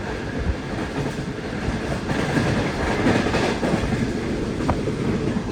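The Shah Hussain Express passenger train rolls past a railway station, a steady loud rumble with wheel clatter and faint squeals sustained throughout.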